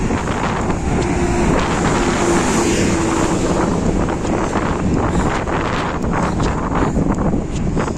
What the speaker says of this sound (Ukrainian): Вітер, тут дуже сильні вітри